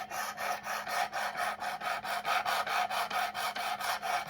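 Knife steel being sharpened on a Work Sharp Precision Adjust sharpener, a rhythmic series of about sixteen rasping strokes, each a gritty scrape in a steady back-and-forth pulse, close and alone.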